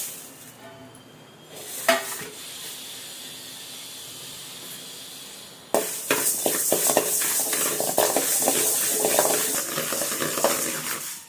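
Green gram (moong dal) dry-roasting in a pan gives a faint hiss at first, then a louder, busy rattle and scrape of stirring grains that carries on to the end.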